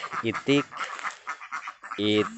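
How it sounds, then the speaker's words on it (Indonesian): Village ducks quack in two loud, raspy bursts, at the start and near the end, with a faint voice talking in the gaps between them. "Ini bebek itik ya, itik"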